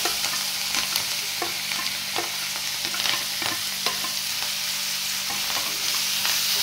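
Lemon and green chilli pickle stir-fried in oil tempered with mustard seeds, cumin and asafoetida gives a steady, broad sizzle, with regular scraping strokes of a spoon through the pan, close and alone.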